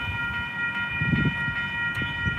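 A freight train rolls past in North Platte, Nebraska, with a steady rumbling roar, faint wheel clatter and sustained high tonal ringing from the passing cars.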